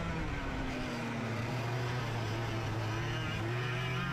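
Karts racing on a slippery ice track in the Diddy Kong Racing video game, a steady buzzing engine drone with sliding pitch running continuously and close throughout, without any talk.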